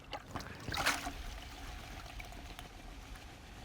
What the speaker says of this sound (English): We're gonna dunk them in water, like so.